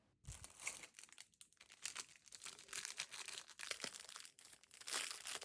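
Crinkling and tearing of packaging while a boxed parcel of beads and beading threads from a shop is unpacked, a close, busy stream of rustles and crunches with brief pauses, no voices.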